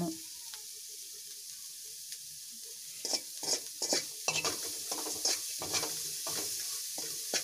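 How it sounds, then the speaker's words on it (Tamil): Spiced potato masala for aloo paratha stirred and frying in a pan: a steady sizzle runs under repeated scraping strokes of a spoon that grow busier in the second half, close and fairly loud, with no talking. "இது நல்லா ஃப்ரை பண்ணி கிண்டியாச்சு"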